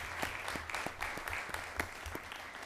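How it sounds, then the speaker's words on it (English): A round of applause at a school board meeting, a fairly faint but steady patter of clapping from a modest crowd, heard alone. "I think that deserves a round of applause all in itself"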